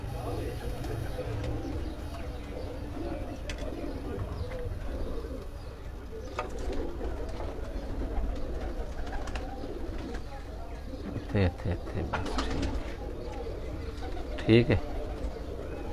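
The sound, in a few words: pigeons cooing on a rooftop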